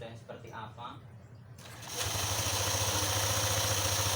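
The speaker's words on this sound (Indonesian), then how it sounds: "Nah, ini kita coba nyalakan motornya untuk mengetahui sistem kerjanya seperti apa." A Honda ADV 150 scooter engine starts after some faint handling noises and settles into a steady, buzzing idle that continues to the end.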